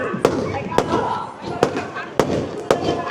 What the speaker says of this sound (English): A few fireworks to finish,